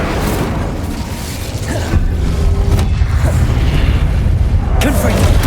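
Fiery Incendio spell bursts from a wand in the fantasy video game Hogwarts Legacy, several booming whooshes and pops over a constant rumble of game ambience, loud and close.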